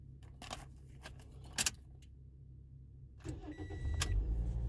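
A car's engine cranks and catches after a jump start, starting with a burst of starter noise and settling into a steady idle near the end, after a quiet stretch with some faint clicks.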